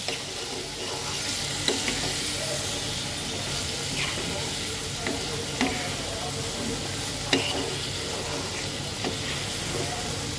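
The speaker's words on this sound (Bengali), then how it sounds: "এখন শুধু সুন্দর মতন করে কষাবো" Spices with turmeric powder and green chilli sautéing in a pan give a continuous close sizzle and hiss, broken by a few sharp clicks of stirring.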